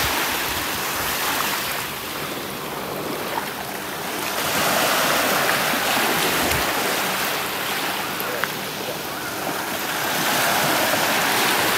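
Steady wash of surf on the beach in North Naples, Florida, a continuous rolling roar with gentle swells and some wind buffeting the microphone, no clear talking.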